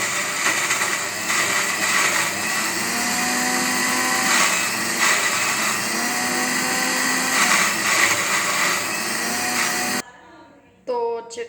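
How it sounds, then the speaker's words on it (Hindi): Loud electric kitchen grinder whirring steadily while blending fenugreek chutney, a dense high motor whine for about ten seconds before it cuts off abruptly, leaving a brief quiet tail. "तो इसे करेंगे हम ग्राइंडर में ग्राइंड"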